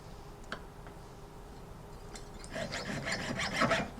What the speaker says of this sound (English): Cutting through tubing is a little bit harder because you're cutting through a vacuum of air